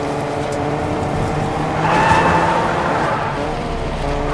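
Car engine drone with skidding tire noise in Fortnite as a vehicle climbs stairs, steady and loud with a swelling squeal midway, no talk.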